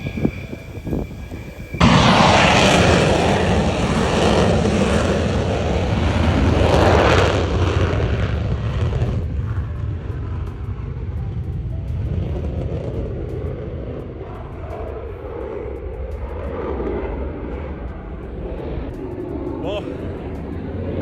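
A Dassault Rafale fighter jet passes at a distance, producing a broad, roaring rumble that swells suddenly, holds for several seconds, then fades into a lingering low wash of noise.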